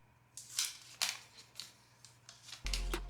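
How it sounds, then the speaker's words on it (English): Plastic wrapping is pulled off an iPhone 12 USB-C power adapter in a series of short crinkly tears and rustles, close and quiet, ending in a brief louder crackle, with no talk. "I'm gonna unwrap this here."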